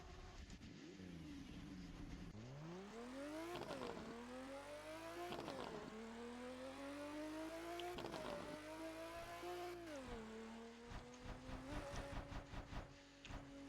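A car engine in a driving game revs hard and climbs through the gears, each rising whine cut by a gear change, then it settles and drops off amid rapid bursts near the end, with no talking.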